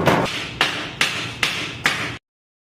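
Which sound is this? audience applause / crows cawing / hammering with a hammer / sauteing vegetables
hammering with a hammer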